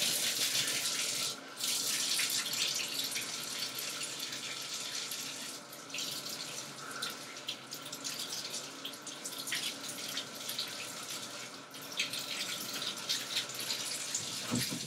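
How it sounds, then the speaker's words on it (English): Hands being washed with soap under a running bathroom tap, water splashing and hissing steadily and close for the whole stretch, with occasional louder gushes as the hands move under the stream. "You guys are going to hear me washing my hands."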